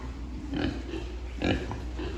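Pigs grunt inside a pig-farm barn, giving soft, brief grunts at irregular moments over a steady, noisy farm background.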